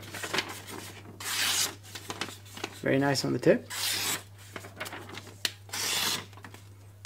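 A VG10 steel knife slices through newspaper in several close, rasping paper-cutting strokes, some longer and some short, while someone briefly speaks in the middle and a low steady hum runs underneath.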